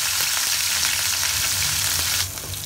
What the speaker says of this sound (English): Now let them fry for a while.